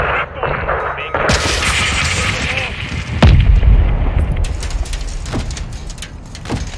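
A missile explosion in Call of Duty Modern Warfare 2 (2022) hits as a loud, deep boom partway through, surrounded by continuous battle noise and scattered sharp bangs, with faint voices in the mix.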